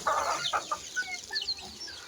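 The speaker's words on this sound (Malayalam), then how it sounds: "പിന്നെ ഈ കാണുന്നത് ഗ്രാമശ്രീ കോഴിക്കുഞ്ഞുങ്ങളാണ്" Gramasree chicks and hens clucking close by in a poultry pen, a run of short overlapping clucks and high chick cheeps that carry on steadily through the whole stretch with no voices.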